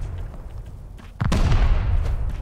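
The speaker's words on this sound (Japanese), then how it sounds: "待って、まだ爆発する、爆発する。" A raid charge explodes in the survival game Rust, a single heavy, loud boom that cuts in abruptly after a quieter stretch and trails off into a low rumbling tail.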